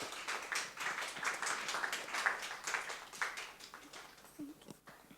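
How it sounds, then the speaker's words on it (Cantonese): A congregation at a church youth worship service applauds a speaker, with brisk scattered clapping from a modest crowd that thins and fades out near the end. "我哋俾啲掌聲佢。"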